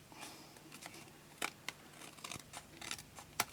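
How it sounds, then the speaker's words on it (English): Scissors trimming papercraft card pieces, with quiet, close snips and paper rustles spread irregularly, a few sharper cuts standing out against a soft background hiss. "let's come in and let's trim everything down"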